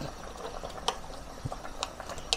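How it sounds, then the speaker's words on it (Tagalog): Pakbet of mixed vegetables and pork belly bubbles in a pot, giving soft irregular pops and gurgles with a few sharper bursts, close and fairly quiet. "Yan, nakulo na po."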